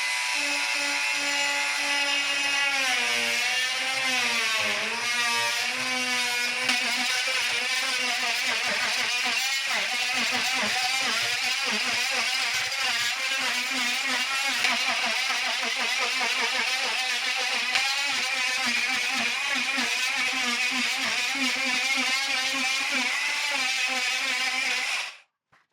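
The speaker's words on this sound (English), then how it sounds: "cutting into sheetrock with a tool like this" A power tool cuts steadily into 5/8 inch sheetrock in a garage, a loud, continuous whining buzz whose pitch wavers slightly and runs unbroken for about 25 seconds before stopping abruptly.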